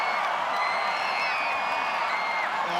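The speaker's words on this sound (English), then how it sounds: "the roar is just reverberating around the Kaitak right now" Stadium crowd roaring and cheering at Kai Tak in Hong Kong after the home side's rugby win over Japan in the Melrose Claymores men's final, a dense sustained wash of voices and whoops filling the arena without a break.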